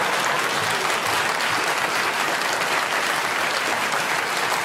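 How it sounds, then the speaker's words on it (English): Loud, dense applause from a studio audience during a political panel broadcast, continuous even clapping filling the room for several seconds without any talk. "You know how to get a round of applause in this room"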